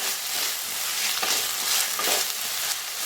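Onions and tomatoes sauté in a pan for chicken sukka, giving a steady, close sizzle with the scrape of stirring throughout.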